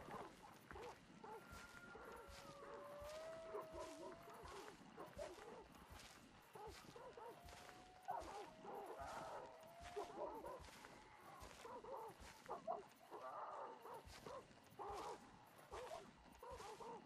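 Dogs barking in the video game Hunt Showdown, repeated yaps and whining barks at a moderate distance over a steady ambient hiss, with faint whistling tones drifting through the background.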